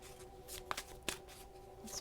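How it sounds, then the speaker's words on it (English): Tarot and oracle cards being shuffled by hand, a soft continuous riffling with a few sharper flicks as cards slip out, close and quiet, with no talking. "I'm getting all kinds of cards flipping out as I shuffle these today."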